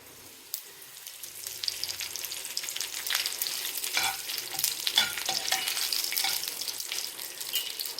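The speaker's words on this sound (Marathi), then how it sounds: "यामध्ये आता आपण कढीपत्ता टाकूया।" Curry leaves hit hot oil with frying mustard seeds in a tempering, setting off a crackling, spattering sizzle that builds and stays busy and close throughout.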